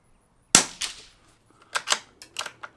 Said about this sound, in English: Let's put these 10 across the suppressor onto the target.